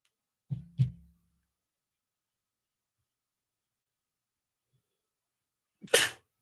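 A single sharp, close sneeze bursts out near the end after a long quiet stretch, following two brief soft sounds at the start.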